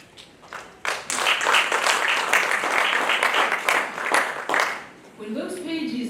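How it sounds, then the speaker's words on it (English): Sustained audience applause at a memorial event, a dense wash of clapping swelling after a few scattered claps and holding steady for several seconds before dying away under a voice. "We applaud him, we applaud him."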